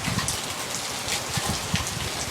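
Steady rain falling outdoors, a dense close hiss with scattered patters of drops hitting surfaces, no voices.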